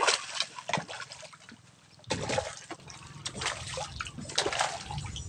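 Grouper in a fishpen splash and thrash at the surface while feeding: close, irregular bursts of churning water with a brief lull in the middle.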